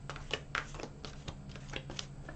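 A deck of tarot cards is riffle-shuffled by hand in quick, irregular bursts of papery flutters and taps, close and fairly quiet with no talking.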